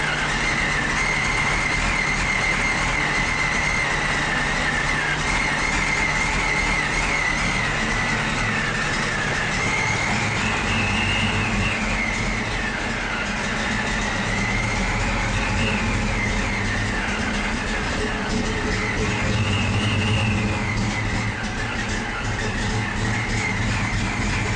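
Supercharged 1990 GT with aftermarket heads, cam and intake, engine running steadily with a rough, droning exhaust note and slight pitch swells from light revving, loud and continuous with no talking.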